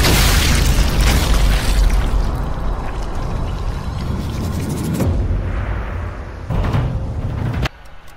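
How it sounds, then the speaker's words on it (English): A loud, sustained explosion in the Sniper Elite video game, with a broad rumbling blast that fills the first several seconds before thinning into debris noise and fading out. "And boom goes the dynamite."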